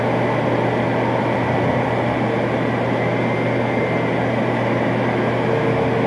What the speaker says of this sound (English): here's an example of how the printer works. So it's going to lay down a layer of powder.